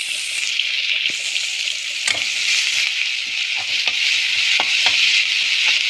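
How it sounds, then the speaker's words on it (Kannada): Chopped onion, green chilli and curry leaves sizzle steadily in a hot pan, with a bright crackling hiss and occasional scrapes of a spatula stirring, no voices. "ಈರುಳ್ಳಿಯನ್ನು ಸ್ವಲ್ಪ ಫ್ರೈ ಮಾಡ್ಕೊಳ್ಳೋಣ."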